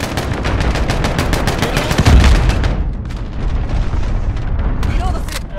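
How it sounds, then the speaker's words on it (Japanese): Gunfire and explosions in a Modern Warfare multiplayer battle, during a friendly cruise missile launch. Rapid machine-gun bursts are followed by a heavy boom, then quieter rumbling with scattered shots, all loud and close. "味方が巡航ミサイルを発射した。"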